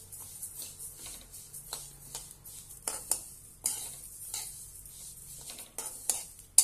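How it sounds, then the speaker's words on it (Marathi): Flax seeds dry-roasting in a hot kadhai at home, giving faint scraping and stirring clatter with small ticks of seeds against the metal, quiet and close, with a few sharper knocks. "त्यामध्ये आता आपण जवस घालूया। 2 वाटी जवस आणि छानपैकी आपण आता हे भाजून घेऊया।"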